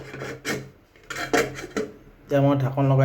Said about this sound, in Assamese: এতিয়া মই ঢাকন লগাই দিছোঁ